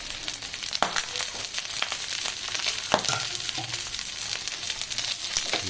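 Chicken skin fries in a pan with a steady, close crackling sizzle and scattered sharp pops and stirring clatters throughout, no voices.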